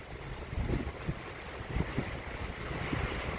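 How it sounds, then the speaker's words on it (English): Strong gusts of Hurricane Lee roar outdoors, a continuous rushing wind that swells and surges with buffeting thumps on the microphone and no voices. "It's a bad wind. Oh, that's a 70 gust."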